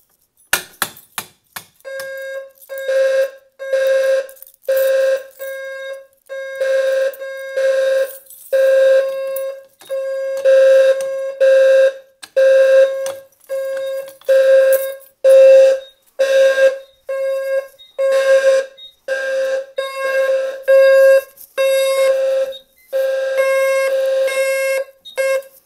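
An SK 5208 fire alarm system sounds after a MERCOM pull station is pulled, pulsing in loud, repeated tonal beeps with short gaps between them, close and piercing, continuing for the whole stretch.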